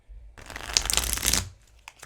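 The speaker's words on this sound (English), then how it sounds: "Oh, but they shuffle beautifully." Small tarot-style playing cards riffle-shuffled once, a quick crisp burst of fluttering card edges lasting about a second, close and fairly loud, with silence before and after.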